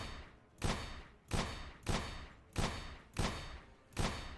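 Gunshots fired at targets, six loud blasts at a steady rhythm roughly every 0.6 seconds, each with a short decaying tail.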